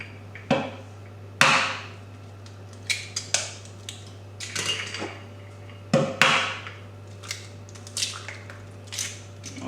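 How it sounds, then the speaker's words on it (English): Four eggs cracked one after another into a bowl for chocolate brownie batter, a series of sharp close taps and crunching shell breaks spaced through a quiet kitchen with a steady low hum behind. "all we're gonna do is simply just crack our eggs. All 4 eggs in there"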